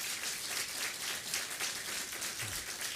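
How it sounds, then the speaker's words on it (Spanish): Church congregation clapping during a Sunday service, a soft, fairly distant patter of many hands, steady and continuous with no speech over it. "Ya aplauso puede dar, ¿no?"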